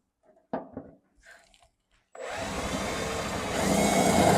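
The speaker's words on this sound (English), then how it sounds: "Okay, so we got our first hole drilled." A power drill bores a hole through the metal of a Classic Bronco, stepping out to 3/8 inch for a kit's bolts, starting after a few short taps and then whirring steadily and loudly, growing slightly louder near the end.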